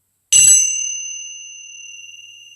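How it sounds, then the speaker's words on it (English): A single Tibetan bell is struck once, giving a bright, pure ring that sustains and slowly fades with a gentle shimmer. "I've got a lovely set of Tibetan bells here."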